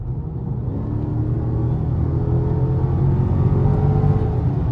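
A Dodge SRT 392 engine drones with a deep, steady rumble while driving on mountain roads, rising slightly in intensity over a few seconds, loud and close with no talking.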